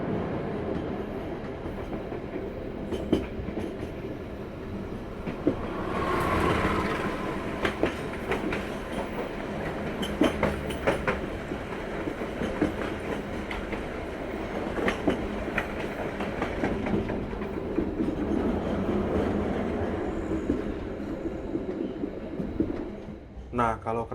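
The Sembrani executive-class stainless steel passenger train rolls along the tracks, its wheels clattering in a steady rhythm with a rising surge partway through, all heard from inside the carriage beneath faint background voices.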